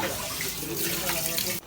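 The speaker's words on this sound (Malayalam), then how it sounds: "നമ്മളിനി പാത്രം കഴുകി ഈ പാത്രങ്ങളൊക്കെ മൊത്തം നമ്മൾ കഴുകി വെക്കണം" Running tap water splashes steadily over dishes being washed in a sink at night, a continuous close rush of water with a brief dip near the end.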